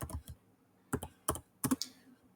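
A computer keyboard is used to type a Vagrant destroy command, heard as a few separated clusters of quick, close keystrokes with short silences between them.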